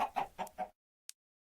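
Chicken clucking in Minecraft: four quick, close clucks in a row, followed by silence and a single faint short tick.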